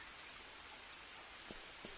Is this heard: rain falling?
yes